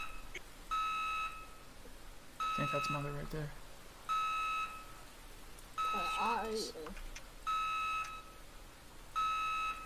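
Repeating electronic alarm beeps sound in the Roblox game, six evenly spaced bursts each about a second long, steady and clear. Game effects and people talking come between the bursts.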